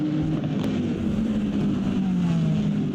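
Race cars at the Willow Springs Grand Prix circuit, including a Lamborghini and a Corvette, as a steady loud engine drone with a slowly falling pitch as the cars pass at a distance.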